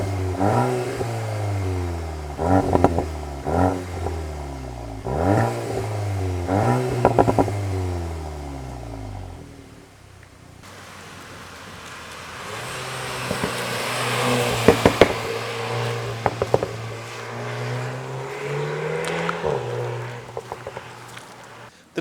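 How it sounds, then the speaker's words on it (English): A VW T-Roc R cold start: the engine fires and is revved hard several times in repeated climbing pulls, then drops to a lower idle with a louder, rougher exhaust burble and further rising revs. "We're going to do a cold start and also a sound test here for you now."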